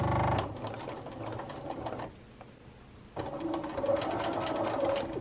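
A Bernina sewing machine stitches along a printed line on a quilt, running in two loud, steady mechanical bursts separated by a brief quieter pause, close up with no talking.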